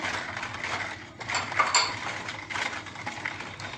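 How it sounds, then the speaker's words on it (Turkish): A spoon stirring salt and sugar into brine for gherkin pickle, giving soft clinking and scraping against a pot or bowl, faint and continuous with a few brighter knocks in the middle. "Bir yemek kaşığı da şekerimi ilave ediyorum. Bunu da bir kere karıştırıyorum."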